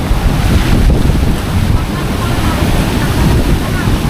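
Loud, continuous roar of big ocean waves mixed with heavy wind buffeting the microphone, steady and close throughout, as huge waves batter a shore where houses have been damaged.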